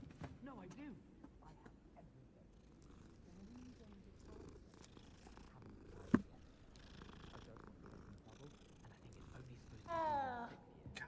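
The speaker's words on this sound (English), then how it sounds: "that meow is awful." A cat in a video game purrs softly and steadily, with a brief, thin meow near the end, all faint beneath quiet background sounds.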